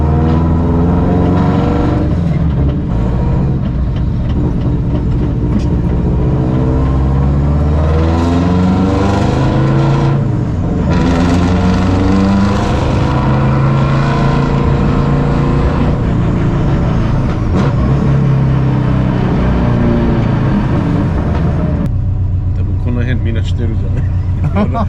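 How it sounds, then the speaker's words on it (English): A Subaru WRC rally car is driven on ordinary public roads, its engine droning loud and continuous from inside the cabin with pitch shifting as it revs up and down through gears, while people talk over it. "I still can't believe we're driving around normal roads with a rally car"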